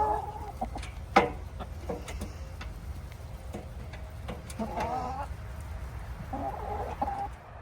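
Chickens cluck softly and intermittently close by while eating mashed food, with scattered pecking taps and occasional louder squawks.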